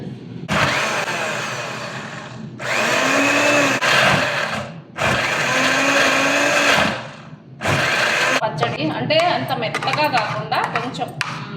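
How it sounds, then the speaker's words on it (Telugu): A mixer grinder whirs loudly as it blends chutney, running in several bursts of a few seconds each with short pauses between. Rattling and clatter follow after the last run. "ఇప్పుడు దీని పాటికి దీన్ని పచ్చడి కూడా మిక్సీలో అయితే వేసేస్తున్నా"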